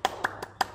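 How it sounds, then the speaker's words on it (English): Four quick hand claps sound close and crisp in a short evenly spaced burst, as children applaud themselves at a Bookbug rhyme session. "Give yourselves a big clap."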